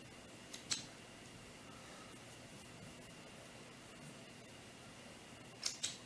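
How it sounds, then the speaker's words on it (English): Scissors snip through sewing threads on a doll T-shirt garment, giving two short crisp cuts, one near the start and another pair near the end, over a faint steady room hum. "So let's just take that off, and cut these threads."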